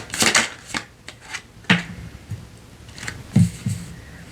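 Tarot cards being shuffled by hand make a run of crisp riffling and slapping bursts, close and fairly loud, in irregular clusters with short pauses between them.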